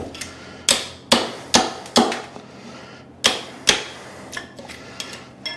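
A pry bar strikes a porcelain toilet glued to a concrete slab floor, sharp metallic knocks coming in irregular bursts of single and double blows, fairly close with quiet gaps between.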